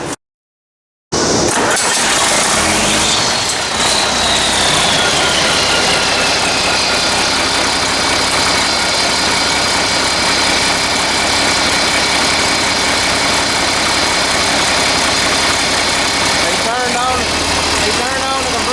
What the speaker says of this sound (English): We're going to have to crank the tractor and turn on the AC and let it suck it down.